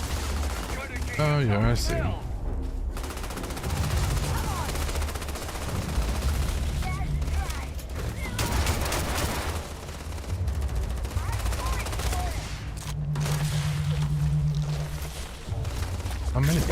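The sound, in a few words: gunfire from the video game Starfield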